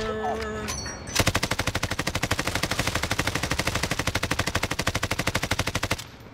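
Rapid automatic gunfire from a Call of Duty Warzone match: one sustained burst of evenly spaced shots lasting about five seconds, loud and close, after a brief stretch of game sounds.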